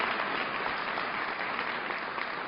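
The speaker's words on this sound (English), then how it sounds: "And a round of applause to those faith leaders." Sustained applause from an audience honoring faith leaders and government officials at a Muslim American community event with the U.S. Attorney General, a dense, steady wash of many hands clapping with no talk.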